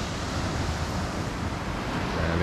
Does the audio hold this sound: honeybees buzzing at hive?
no